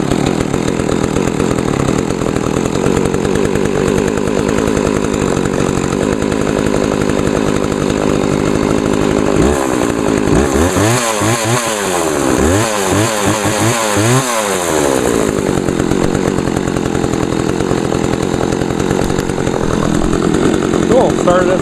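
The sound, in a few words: McCulloch Eager Beaver 2014 chainsaw running after cold start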